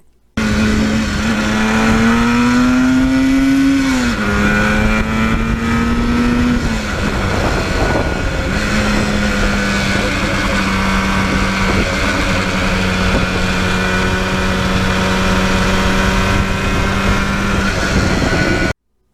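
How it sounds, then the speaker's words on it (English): A 1977 Yamaha RD400 two-stroke motorcycle engine revs steadily and runs through the gears, its pitch rising and then dropping at each shift, loud and close with no talking. "the engine is glass smooth, and you could just go through those gears"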